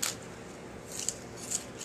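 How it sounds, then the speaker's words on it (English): Fresh kale diced finely on a cutting surface as food for a bearded dragon: a few sharp, crisp cuts close up, spaced apart over faint background hiss, with no talking. "And then just really kind of dice up this kale here."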